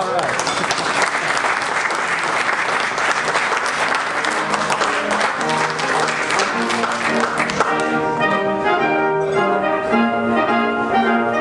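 A stage audience claps warmly to welcome a Ronald Reagan impersonator, sustained dense applause that fades as music swells underneath.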